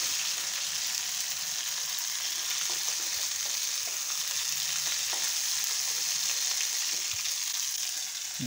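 Fish sizzles and crackles in hot oil in a pan, a dense, continuous frying hiss with scattered pops and occasional stirring clinks, heard close and steady with no talking.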